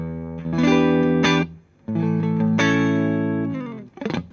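Fender Stratocaster with Texas Special pickups played through a Wampler overdrive pedal into the dark channel of an Orange amp set clean, with a touch of reverb; two loud sustained chords ring out, then a short plucked flourish.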